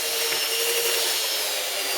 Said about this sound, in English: We use a drill with an old saw blade to mash everything up